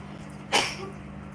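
A single sharp sneeze bursts out, then quiet room tone follows.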